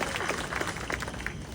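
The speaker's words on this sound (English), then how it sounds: "So please give a round of applause to all the people who pushed so hard for so many years" Audience applause at the grand opening ceremony for the KC Streetcar Main Street extension, a steady wash of clapping that runs throughout, fairly distant and even, with a faint voice underneath.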